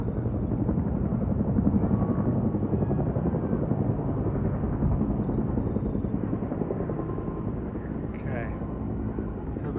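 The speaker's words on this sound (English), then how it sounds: "There's a helicopter right there." A helicopter flies over the Grand Canyon, its steady, loud rotor thump and engine roar filling the whole stretch without a break or any voices.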